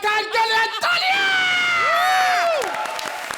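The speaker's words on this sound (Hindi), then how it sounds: "हमारे नए जज अरबाज खान के लिए तालियां!" A studio audience at a televised Hindi comedy show cheers, whoops and claps for a new judge, a loud dense crowd roar with shouts and a musical sting over it.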